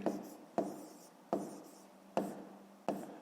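A pen scratches on paper in five short strokes, each starting with a sharp onset and fading, close and quiet in a still room.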